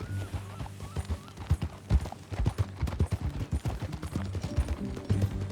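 Horse hooves clip-clopping in Red Dead Redemption 2 as riders set off together, with a steady run of overlapping hoofbeats and a low rumble beneath.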